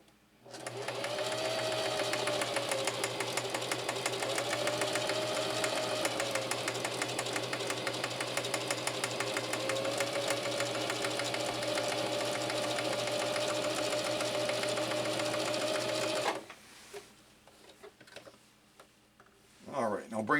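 Singer Heavy-Duty 4423 sewing machine running a ribbon stitch: a steady, rapid mechanical clatter with a low motor hum, close and continuous for about sixteen seconds before stopping, leaving faint handling noise.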